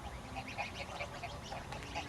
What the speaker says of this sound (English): Gee, there's so many geese,